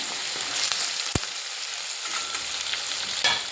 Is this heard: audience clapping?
no